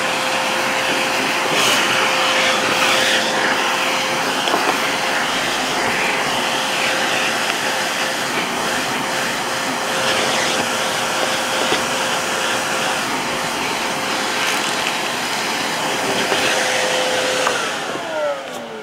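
A Vevor 2.5 gallon wet dry shop vac runs continuously for nearly twenty seconds, a loud steady whooshing motor whine with a constant hum, close by and with no talking.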